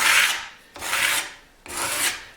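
Three long, raspy strokes smooth rasp marks on a carved wooden electric guitar neck, each a hissing scrape with brief gaps between, close and alone.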